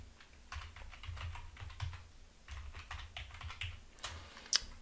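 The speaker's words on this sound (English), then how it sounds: "type in our text for our note" Typing on a computer keyboard while entering a text note in AutoCAD: quick, irregular bursts of close key clicks with short pauses between runs, ending with one sharper tap, no voices.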